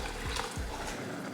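Water used to rinse a pressure cooker is poured into a pan of mashed lentils, a short close splash and trickle lasting about a second.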